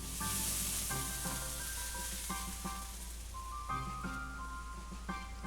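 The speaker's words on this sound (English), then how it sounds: "there's a chain of sizzling sounds like that of water touching a red-hot frying pan" Steady hissing sizzle, like water hitting a hot pan, continuing throughout with tonal musical notes sounding over it.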